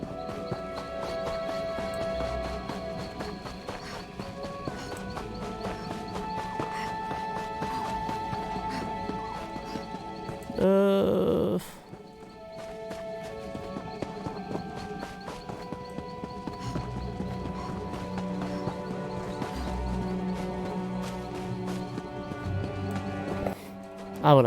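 Horse hooves clip-clop steadily with a whinny in the Elder Scrolls Online video game, heard under continuous game music and a voice, with a louder burst midway.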